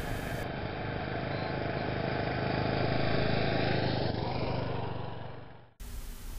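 A motorcycle riding at 15 mph, its engine humming steadily at a low, even pace, a continuous moderate drone that fades out near the end.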